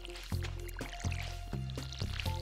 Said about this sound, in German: Schön mein Weizen gießen.